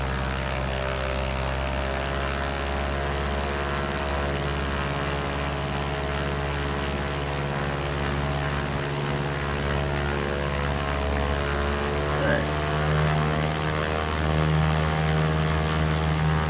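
A propeller airplane's engine in the X-Plane 11 flight simulator hums as a steady, loud, even drone with no breaks, flying over the Salt Lake Valley.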